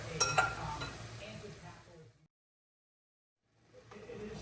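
Minced fish dry-roasting in a pan for Isan larb: close stirring scrapes and a soft sizzle, then about a second of silence before the stirring picks up again.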